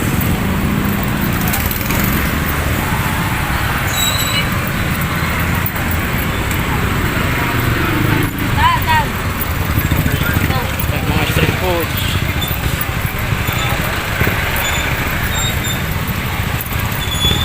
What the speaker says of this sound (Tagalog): traffic ngayon